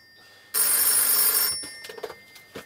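A loud, close telephone ring sounds for about a second and then cuts off, followed by faint clicks and rustling handling noises.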